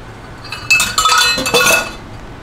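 A spatula scraping butter and corn syrup from a glass mixing bowl, a few short clinking, scraping strokes close by, loud and without talking.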